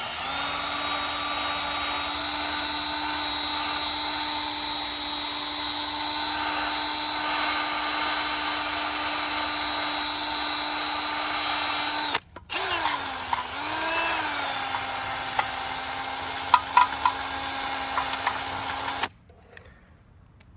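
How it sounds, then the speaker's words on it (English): Sanding roll on an air tool whines steadily inside the ports of an LSA supercharger, a loud continuous high pitch that briefly drops and wavers mid-way, then resumes before cutting off near the end. "that way you can get the most out of each cartridge roll. So I'm leaning it more heavily on the edge that has more sandpaper left."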